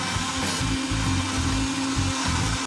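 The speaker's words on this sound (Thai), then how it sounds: "นำใบเตยมาปั่นนะคะ" A blender grinds pandan leaves with a loud, steady motor whine. Its low churning pulses in an uneven rhythm as the leaves tumble in the jar.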